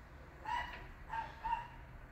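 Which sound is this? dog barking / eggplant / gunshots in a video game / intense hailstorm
dog barking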